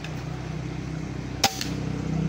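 A single sharp air gun shot cracks close by at an outdoor shooting test, standing briefly out of a steady background hum.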